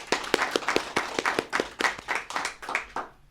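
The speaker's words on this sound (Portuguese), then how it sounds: "Vamos aplaudir o Senhor Jesus?" A church congregation claps in a quick, fairly even rhythm, the sharp hand claps distinct and moderately close, with no talk over them.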